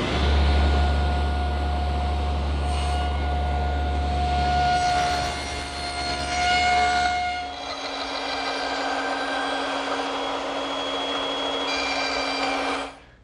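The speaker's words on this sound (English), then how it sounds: "Now I've lowered the saw to about 1/16 of an inch to make these short shoulder" A power saw set to a very shallow depth of about 1/16 inch makes short shoulder cuts in wood. A loud, steady motor whine with a deep hum runs throughout, and its pitch shifts midway, with no voices.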